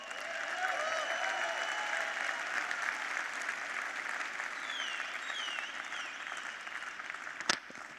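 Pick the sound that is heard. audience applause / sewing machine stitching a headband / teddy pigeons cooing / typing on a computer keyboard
audience applause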